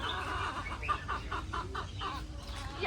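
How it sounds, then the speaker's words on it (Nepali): A rooster at Taronga Zoo in Sydney clucks in a quick run of about eight short, even notes, close by, over a steady outdoor background hum. "हेर भाले देखाइदिइरहेछ"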